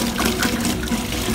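Steady running water pours with a constant hiss and gurgle into a bucket, close and fairly loud, with no voices.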